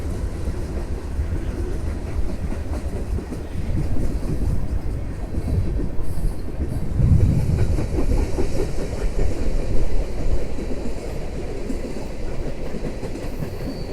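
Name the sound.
passing train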